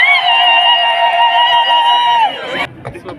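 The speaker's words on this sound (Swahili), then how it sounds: "makofi na vigelegele kwa Wachaga" At a crowd's welcome for Bishop Prosper Lyimo, loud, close ululation rings out in a sustained, high trilling tone for over two seconds, then cuts off, leaving faint crowd murmur and scattered noise.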